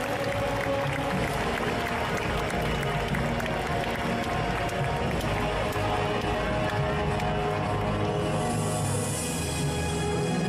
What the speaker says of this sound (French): faire un tonnerre d'applaudissements pour Camille en steampunk